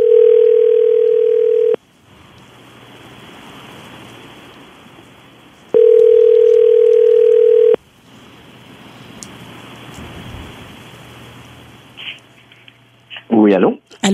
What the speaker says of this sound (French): Ça sonne, ça sonne.